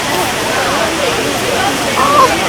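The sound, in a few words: waterfall in Puerto Rico's rainforest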